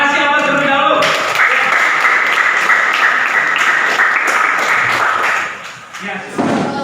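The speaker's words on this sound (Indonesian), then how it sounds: "Kasih aplaus terlebih dahulu." A classroom of students applauds the first group as it comes forward to present, a dense, loud burst of clapping that holds steady for several seconds and then fades out.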